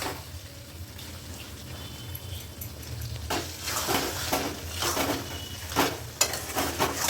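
Puishak chorchori, a Malabar spinach dish, is stirred in a pan after fried fish oil is added. A soft sizzle runs underneath, the stirring grows busier with scraping and wet shuffling, and a light clink of utensil on pan comes through.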